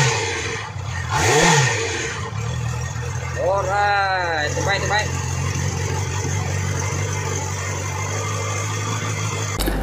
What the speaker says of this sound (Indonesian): Sikit bunyi exhaust standard motor ni.